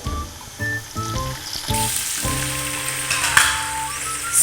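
Chopped tomatoes fry and get stirred with potato and aubergine in a pan, a steady close sizzle rising after a few stirring scrapes and continuing loudly to the end.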